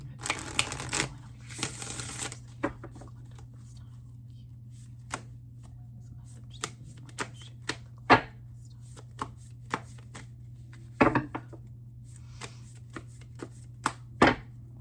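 Shuffling and handling a deck of angel number oracle cards, with a brisk riffle at the start and then scattered soft taps and slides of cards, quiet and close over a steady low hum.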